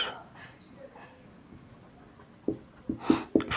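Pen scratching across paper while working through a Coulomb's law problem in CGS units, soft and steady, ending in a few sharper taps and strokes close by.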